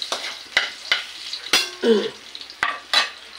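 Carrots frying in a pan for pork calderita, with sharp intermittent clicks and scrapes of a utensil against the pan over a faint sizzle.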